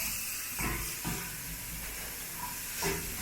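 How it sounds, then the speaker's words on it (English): Onion frying in a pan until golden gives a steady, close sizzling hiss with a few soft bumps and stirring touches, no voices over it. "Fry it until it is golden, has golden color, the onion"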